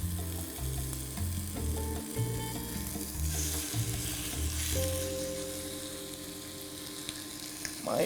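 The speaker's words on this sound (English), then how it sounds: "I'm gonna get that nice sear." Large chicken thighs for a Moroccan dish sear in a hot pan, a steady close sizzle hissing throughout under a low, tonal background hum.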